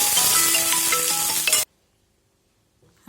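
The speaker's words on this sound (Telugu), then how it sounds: "పచ్చిమిరపకాయలు కొంచెం వేయించుకోవాలండి." Green chillies fry in hot oil for a tempering, giving a bright, steady sizzle with a few light clinks for about a second and a half before cutting off to near silence.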